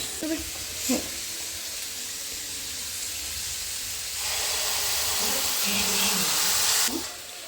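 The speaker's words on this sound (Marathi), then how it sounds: "असं आता मस्त बटाट्याची भाजी परतून घेते मम्मी" Potato bhaji sautéing in a pan at home, a steady soft sizzle and hiss that swells louder midway, with occasional light stirring scrapes.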